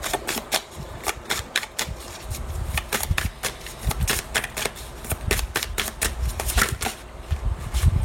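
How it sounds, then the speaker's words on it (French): Tarot cards being shuffled and dropping onto a surface, with a steady run of crisp, close flicks and slaps repeating quickly throughout. "Ouf, trop de cartes qui tombent ici."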